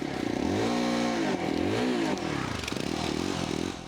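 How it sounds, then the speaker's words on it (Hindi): A 2024 Yezdi Adventure motorcycle's exhaust note at close range: the engine idles with a low throb, then is blipped in a couple of rising and falling revs, with no talking. "So this is how the exhaust note sounds in the 2024 version of this ESD Adventure."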